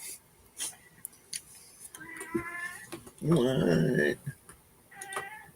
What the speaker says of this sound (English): Cat's talking to you.